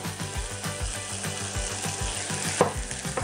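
Garlic and onion sautéing in hot oil in a small saucepan, a continuous loud sizzle with rhythmic stirring scrapes and a brief clatter near the end.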